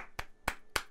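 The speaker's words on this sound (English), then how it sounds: "A little applause." Three slow, separate hand claps close by, evenly spaced in a sparse 'little applause' during gameplay of the horror video game Frosty Nights, with near silence between them.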